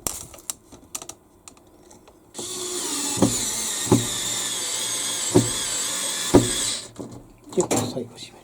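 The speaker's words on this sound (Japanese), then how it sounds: "最後は自分の手で締めたいので、私はこのドライバーを使ってます。" A hand screwdriver tightening screws on a BW V80C washing machine during cleaning, giving rhythmic ratcheting clicks over a steady whirring noise, with a person speaking briefly before and after.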